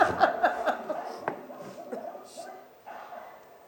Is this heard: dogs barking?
yes